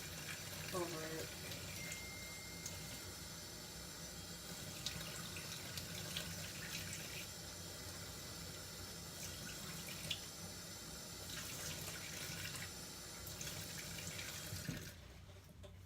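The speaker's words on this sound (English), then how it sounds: "And then I'm going to then run the water" Tap water runs steadily over a stained microscope slide at a lab sink, a continuous broadband rush lasting most of the clip before cutting off near the end.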